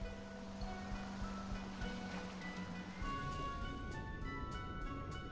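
Water sounds from a boat in GTA San Andreas, a steady wash of waves and surf with a constant engine-like drone underneath, even and continuous throughout with no talking.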